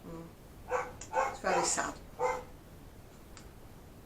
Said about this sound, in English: she will bark and bark because she's got barking Tourette's